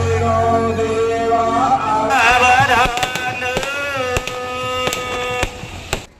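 Sharp crackling bursts of fireworks pop repeatedly at a wedding over loud festive music, the bangs coming irregularly and close by.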